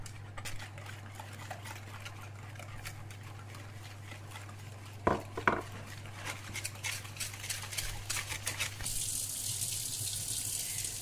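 Cold tap water runs steadily over freshly boiled macaroni in a kitchen sink, a continuous hiss and splash that grows brighter and louder near the end, with a low hum underneath.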